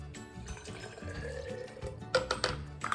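A cup of water poured into borax powder, a soft trickling and splashing that runs steadily and ends in a few brighter, louder splashes.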